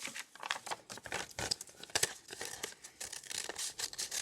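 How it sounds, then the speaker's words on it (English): Scissors snipping through two folded sheets of paper, a close string of crisp irregular cuts and paper rustles, with no talking. "Make sure your paper is folded together, so you're cutting 2 pages together."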